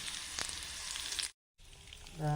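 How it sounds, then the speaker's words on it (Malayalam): Chili powder dropped into hot oil with the heat switched off gives a quiet, even sizzle, cut by a short silent gap before the faint hiss resumes, with a brief tonal sound at the very end. "ഓഫ് ചെയ്തതിന് ശേഷം ഞാൻ കുറച്ച് മുളക് പൊടി ഇട്ട് കൊടുക്കുന്നുണ്ട്"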